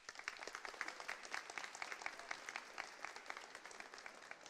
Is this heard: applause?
yes